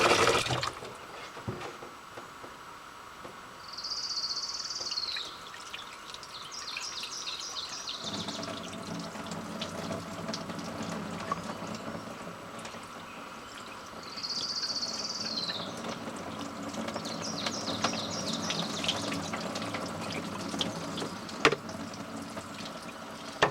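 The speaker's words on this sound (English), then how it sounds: "we're going to fill our tube up with water" An outdoor faucet runs water into a centrifuge tube, a steady gushing flow that changes pitch partway through as the tube fills, with insects chirping intermittently in the background.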